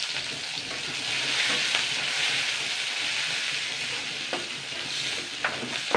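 Chopped onion and green chili fry in hot oil in a pan for a fish curry, a steady close sizzle with occasional scraping stirs and soft pops, continuous and fairly loud, with no voices.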